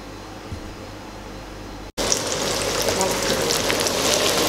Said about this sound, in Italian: andiamo a friggerli nell'olio di semi di girasole